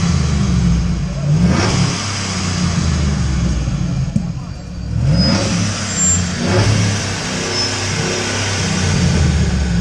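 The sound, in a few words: car engine revving at a car meet rev battle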